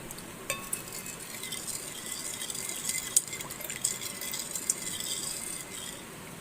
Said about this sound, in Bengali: এবার আমি এটা ভালো করে নেড়ে মিশিয়ে নিচ্ছি